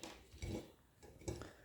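Dishes and cutlery being cleared from a cluttered kitchen table after a family breakfast, two clusters of clinks and thuds of plates and utensils, close and moderately loud, with no voices.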